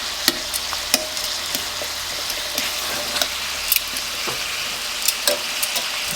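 Salted and peppered chicken pieces fry in an overcrowded pan with a steady, close sizzle, broken by occasional sharp crackles and the scrape of stirring.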